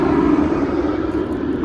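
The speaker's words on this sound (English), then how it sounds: "I'm not too far from a private jet" Private jet engine rumbling nearby, a steady continuous roar with a strong low hum that holds without a break throughout.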